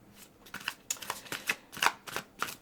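Tarot and oracle cards being shuffled close by, a quick series of crisp riffling bursts and slaps, about eight in under three seconds.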